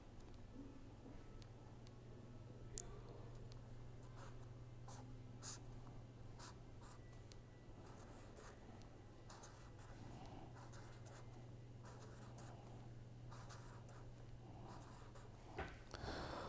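Pen strokes scratch softly across paper as orbital diagrams are drawn by hand, faint repeated scribbles and taps over a low steady hum.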